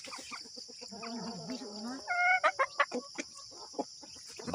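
A bakulod breeding chicken on a Mindanao hillside farm gives a drawn-out wavering call followed by a burst of sharp, loud clucks, close by, with other faint bird sounds and a high steady insect-like hum in the background.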